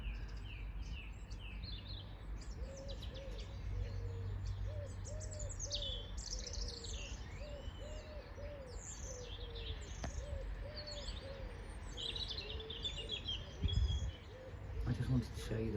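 Many birds chirp and call at sunrise under a pink sky, a dense, fairly distant chorus of tweets with repeated dove-like cooing beneath, steady throughout with a brief bump of nearby handling noise near the end.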